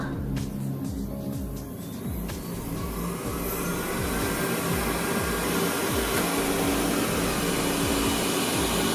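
A Xiaomi Mijia Mi robot vacuum runs continuously nearby, a steady motor whir with a low rumbling drone and faint rhythmic clatter throughout, with no talking.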